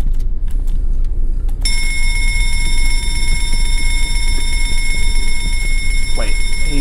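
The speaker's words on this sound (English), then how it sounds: "I'm gonna ring the bell." A bell ringing in the video game Escape the Backrooms, a steady sustained electric ring that starts suddenly and carries on over low rumbling noise, with a voice talking over it.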